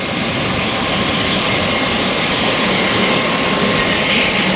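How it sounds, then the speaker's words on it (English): A plane takes off at Little Missinaibi Lake, its engine a loud, steady roar that holds strong throughout with no talking over it. "Plane is off."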